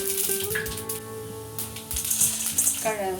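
Mustard seeds and urad dal fry in a pan of oil while making rava idli, giving a steady close sizzle with crackling pops and a few light clinks of a utensil throughout.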